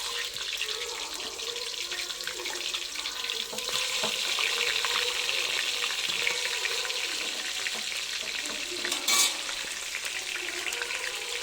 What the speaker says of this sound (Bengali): তেল ঢালছি, আমি মাছটা ভাজা হবে।